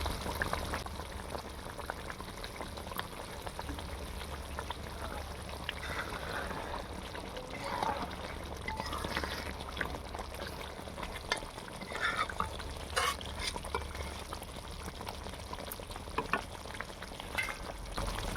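A mrigal fish korma simmers in an uncovered pot, making a soft, steady bubbling and gentle liquid churning that stays low and even throughout, with no voices over it.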